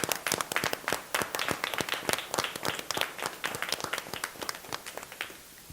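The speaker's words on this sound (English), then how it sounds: "Let's give them a round of applause." An audience applauds the 2021 Class 3A men's basketball champions, with sharp, distinct claps coming fast and close, mostly alone and tapering off toward the end.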